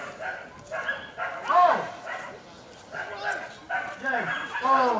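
A police dog on a canine training track barks and yips in repeated bursts, close and loud, with a person's short exclamation among them.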